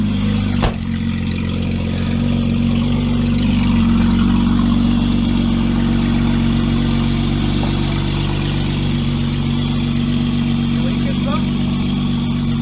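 A Hyundai Tucson built for a demolition derby idles in a shop, a steady low rumbling engine hum running throughout at close range while people talk over it.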